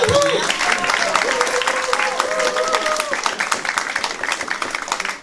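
A crowd at a French church forum claps steadily and fairly close for several seconds. Overlapping voices and tones drift through the early part of the applause.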